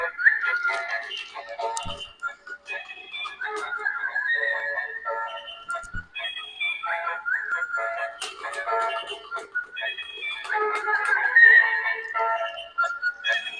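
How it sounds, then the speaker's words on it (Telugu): A battery-operated dancing girl doll plays a continuous, tinny whistling melody with electronic music, steady and close throughout, with a couple of faint low knocks. "మంచి మ్యూజిక్ తో విజిల్ చేసుకుంటూ"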